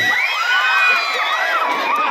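A crowd at a gay beauty pageant in Bicol cheers and shouts in a dense, continuous roar of whoops and high voices, loud and steady throughout.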